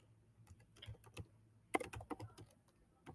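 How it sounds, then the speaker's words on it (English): Quiet, scattered keystrokes on a computer keyboard, tapped in short irregular bursts with a cluster of sharper clicks midway, no voices. "So I'm typing them, click add."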